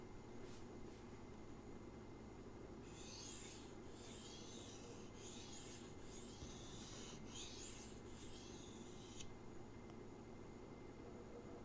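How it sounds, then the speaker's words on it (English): A knife edge is touched up on a Naniwa resin bonded diamond stone in a couple of passes, giving quiet, repeated rasping strokes in a short run against a faint background hiss. "we're just going to touch up the edge on this Maximate blade"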